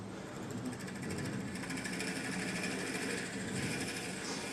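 A lathe runs with a drill bit lowered into a wooden yo-yo blank, giving a quiet, steady mechanical whir and buzz that holds at an even level throughout.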